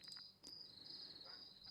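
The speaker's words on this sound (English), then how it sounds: "Sorry for the dogs barking and the crickets going." Crickets chirp steadily in a continuous high-pitched trill outdoors at night, faint and constant, with a few brief background noises mixed in and no talking.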